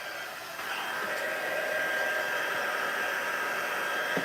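A heat embossing tool runs steadily close by while warming cardstock, giving a loud, constant blowing hiss like a small hair dryer for the whole stretch.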